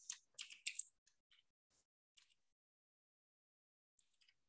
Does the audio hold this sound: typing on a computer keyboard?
yes